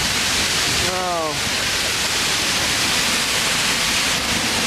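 Dense, roaring wash of falling water heard from behind a waterfall, loud and constant like hissing static, with a brief voice sound breaking through early on.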